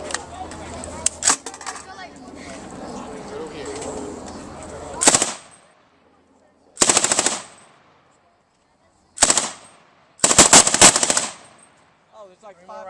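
Bursts of machine-gun fire ring out at a military base open house: four sharp, loud volleys separated by quiet gaps, preceded by faint background chatter and ambient noise.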